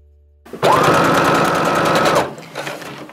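A sewing machine stitches a clasp onto lining and cork, a single loud close burst of rapid motor whir lasting under two seconds, followed by a few softer clicks and handling sounds.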